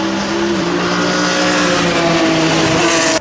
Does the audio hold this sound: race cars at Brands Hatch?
yes